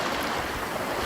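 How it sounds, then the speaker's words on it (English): Simulated gentle waves rolling up a beach toward the shore, a steady broadband wash of surf that stays even and unbroken throughout. "the waves are slowly moving towards the shore as they go up the beach"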